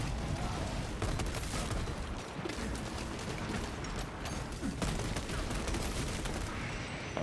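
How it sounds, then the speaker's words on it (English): Continuous gunfire in the video game Space Marine 2, a dense, unbroken barrage of rapid shots and blasts that stays loud and steady throughout with no pauses. "Hay algo por ahí disparando"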